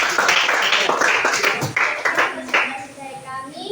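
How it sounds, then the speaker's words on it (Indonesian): Students clap for a presenting group in an Indonesian school classroom, a dense patter of hands that swells and thins over a few seconds, with children's voices chattering underneath. "Kita beri aplaus buat kelompok."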